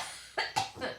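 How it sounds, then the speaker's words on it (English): A person coughs two or three times in quick succession, close and fairly loud, with a short quiet pause before the bursts and no talking. "I just wanted to cough."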